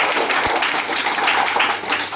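An audience at a public speech in Hyderabad breaks into dense, continuous clapping that fills the whole stretch, loud and close, with no voice heard over it.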